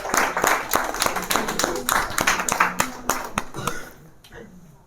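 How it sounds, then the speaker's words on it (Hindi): Audience clapping for a group of children at a talk on good habits, a dense burst of many hands that carries on steadily, then thins out and fades near the end. "इन बच्चों के लिए ताली बजाइए।"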